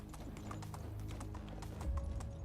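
Horses in the medieval farming game Medieval Dynasty: a steady run of close hoof clip-clops with a soft whinny-like tone, fairly quiet, no talk.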